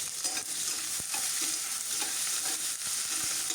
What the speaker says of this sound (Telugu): ఈ ఉల్లిపాయలు కూడా మనకి కొంచెం కలర్ వచ్చే వరకు వేయించుకుంటే సరిపోతుంది.